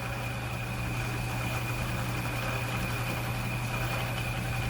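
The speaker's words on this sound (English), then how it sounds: "The wheel will polish it up, and what you get is a nice black oxide finish." A buffing wheel polishes rust-blued parts of an 1851 Colt Navy revolver, giving a steady, loud motor drone with a constant low hum and broadband whir, unbroken and with no speech.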